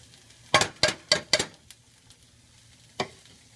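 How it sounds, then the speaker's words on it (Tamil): Onions frying for homemade chicken haleem, with several sharp stirring scrapes and clinks of a utensil against the pan over a faint background sizzle, then a single knock near the end. "ஆனியன் நல்லா ஃப்ரை ஆகிட்டுருக்கு."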